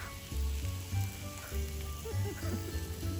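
Pork sizzles and crackles on a hot Thai moo kratha grill pan, a steady frying hiss with low thumps and faint voices murmuring underneath.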